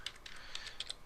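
Quick, light keystrokes on a computer keyboard tap out an irregular burst of clicks, close and fairly faint, with no talking.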